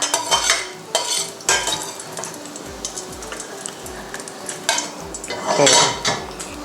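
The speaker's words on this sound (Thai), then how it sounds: "ตักตัวกระเทียมขึ้นค่ะสำหรับเมนูนี้นะคะ เราจะเอาแต่ตัวกระเทียมขึ้นก่อน ตักพักไว้นะคะ" Fried garlic is scooped out of a wok with a metal utensil: repeated sharp scrapes and clanks against the pan over a low background sizzle, spaced in an irregular rhythm.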